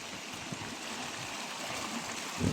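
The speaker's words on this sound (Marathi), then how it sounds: "आता थोडा मध्यम पाऊस आहे म्हणजे बारीक रिमझिम चालू आहे" A monsoon-swollen stream in Konkan rushes steadily under light drizzle, a continuous broadband wash of flowing water that swells slightly louder near the end.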